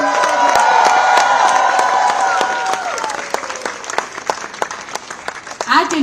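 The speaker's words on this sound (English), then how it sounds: "A big round of applause to all the friends and fans of India House." Audience at India House breaking into loud, dense applause and cheering, close and sustained before thinning into scattered claps with a few shouts near the end.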